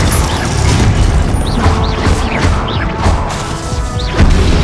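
Continuous spell-combat clamour from Hogwarts Legacy, with a Glacius ice spell impact amid loud crashing, whooshing bursts and mechanical clatter, dense and sustained throughout with a heavier hit near the end.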